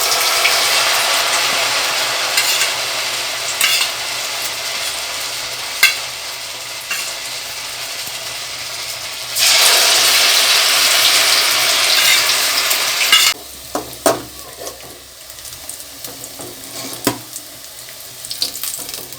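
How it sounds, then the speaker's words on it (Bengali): Stuffed pointed gourds (kakrol) fry in a pan with a steady broadband sizzle, loudest through a middle stretch and then easing, broken by occasional clinks and scrapes of stirring; no one speaks. "এইভাবে আমি বাকি কাঁকরোলগুলো ভেজে নেব।"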